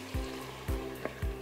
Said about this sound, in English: to deglaze the pan here with the Instant Pot still on saute, I'm gonna add in 1/2 cup of dry white wine